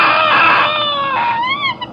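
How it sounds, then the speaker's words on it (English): A baboon gives a loud, harsh, wavering call in one drawn-out cry that bends in pitch, then trails into shorter yelps. "That is the sound of a baboon."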